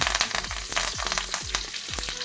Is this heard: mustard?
yes